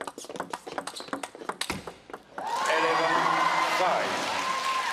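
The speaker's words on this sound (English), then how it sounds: "Maverick Arena applauds" Arena crowd at a women's table tennis quarterfinal in Los Angeles breaks into applause and cheering after a game ends; sharp scattered sounds come first, then sustained clapping swells and holds to the end.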